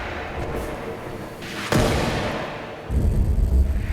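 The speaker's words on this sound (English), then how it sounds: "I'm going to send in the heavy artillery. Here comes the missile." A heavy missile artillery strike lands in a video game battle, with a sharp loud boom partway through and another deep rumbling blast near the end over a constant noisy backdrop.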